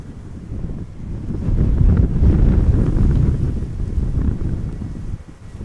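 Strong crosswind gusting at Amsterdam Schiphol Airport, a loud, steady roar of wind buffeting the microphone that swells in the middle and eases near the end, with no voices.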